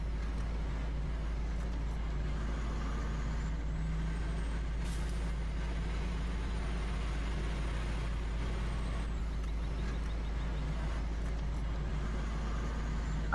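A truck driving in the Farming Simulator 15 video game on the Montana map holds a steady, deep engine drone from start to finish, with a faint high whine above it and no talk.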